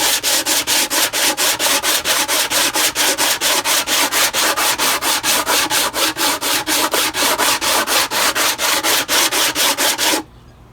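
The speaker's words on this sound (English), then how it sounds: "I'm going to go ahead and sand this down here" Steady, rhythmic hand sanding of a part with sandpaper, even back-and-forth strokes repeating loud and close for about ten seconds, then stopping abruptly.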